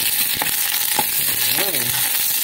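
Chop suey frying in a pan and stirred with a spatula, a loud continuous sizzle with a few sharp scrapes and a short tonal squeak near the end, with no talking.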